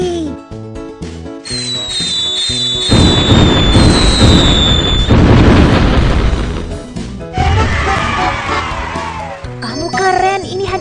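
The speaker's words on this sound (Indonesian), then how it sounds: "Ayo kita ledakan kembang api." Fireworks burst in a children's video game: several seconds of dense crackling explosions and booms rise over bright, chiming game music with electronic sound effects, loud and close.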